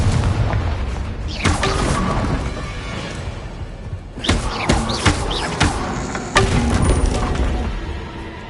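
A Confringo blasting spell in a Harry Potter video game: loud, dense booming explosions fill the whole clip, with several sharp bursts and crashes rising out of a continuous rumbling roar, no speech.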